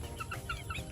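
A backyard breeding hen clucks in a short series of soft, close calls, with no voices present.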